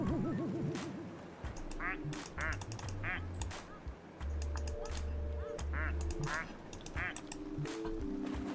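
Many plastic ducks quacking in Placid Plastic Duck Simulator, rapid bursts of overlapping quacks and honks from several birds, close and loud, with a low electronic game hum underneath.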